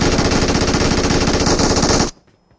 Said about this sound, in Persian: من گفتم دو تا تیر دیگه میندازم